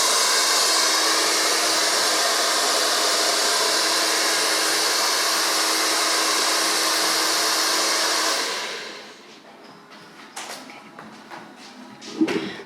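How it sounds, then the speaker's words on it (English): A barbershop hair dryer blows in a loud, steady whoosh while hair is dried, then cuts off after about eight seconds, leaving faint taps and light handling sounds. "usually after I blow dry the hair"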